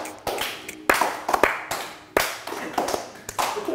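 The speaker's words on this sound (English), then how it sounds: "Slow clap" A few slow, deliberate hand claps spaced well apart, sharp and close, with a brief pause between strikes in an otherwise quiet room.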